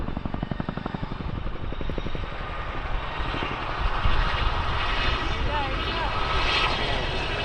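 A Chinook helicopter at an air show drones with a steady, loud engine and rotor roar, while a commentator's voice runs over it throughout.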